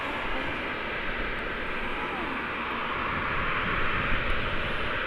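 A Ryanair airliner taxiing out at Manchester Airport, a steady broadband engine roar and rumble lasting throughout at moderate distance, with faint voices mixed in beneath it.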